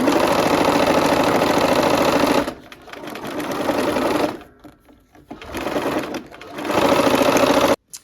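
A sewing machine stitches a quilt block in loud, fast, steady bursts, stopping and starting several times with short quiet gaps between runs.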